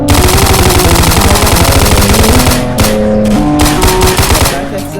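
Rapid automatic gunfire rings out in a video game gun shop, a loud continuous burst of shots over steady background music tones, with a brief lull near the middle before firing resumes.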